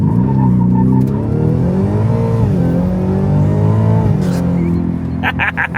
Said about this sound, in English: you really hear that supercharger whine when you get on it